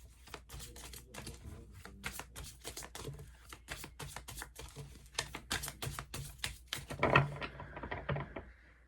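Tarot cards are shuffled in quick, crisp riffles and taps, a rapid flurry of small clicks close by, ending in a soft flutter.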